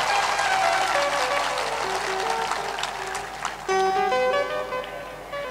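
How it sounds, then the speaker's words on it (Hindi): An audience at a religious sermon in Viratnagar, Nepal claps loudly and continuously, a dense clatter of hands heard alongside tonal music that grows more prominent toward the end, with no talking. "जोर से ताली बजाओ"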